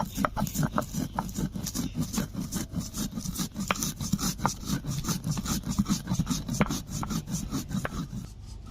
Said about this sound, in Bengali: এখন আমি ভেজে রাখা জিরেগুলোকে বেটে নিচ্ছি